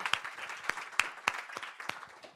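Scattered hand claps from a small group at a talk with a mayor, a handful of sharp claps spread over a couple of seconds with faint murmuring behind them.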